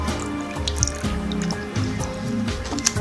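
Water draining from a tofu package into a cup, a trickling, dripping pour with several small splashes and drips, close and moderately loud.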